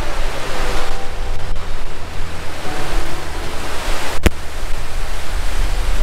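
Vasudhara waterfall in the Himalayas near Mana village roars as a steady, dense wash of water noise, loud and continuous throughout with some wind buffeting, and no one speaking.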